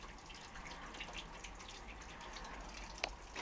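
Water drains steadily through a siphon hose into a bucket, some of it spilling onto the floor, giving a continuous faint trickling and dripping with one small splash near the end.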